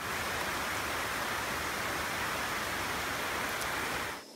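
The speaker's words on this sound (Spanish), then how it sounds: "En una tormenta, oímos la lluvia que cae." Steady rain pouring down in a storm, a dense continuous hiss that holds evenly at close range before cutting off abruptly at the end.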